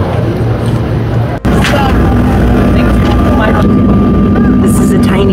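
A loud, constant engine drone fills the back of a tiny plane's cabin, with a steady tonal hum and voices murmuring underneath.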